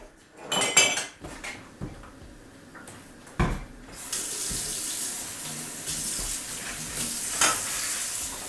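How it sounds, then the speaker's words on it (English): Dishes are washed in a kitchen sink, with pots and cutlery clattering near and loud, sharp clinks scattered through, then a faucet running in a steady rush. "So I started off today with dishes because we go through them real fast."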